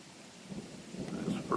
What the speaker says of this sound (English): that's a rumble of thunder there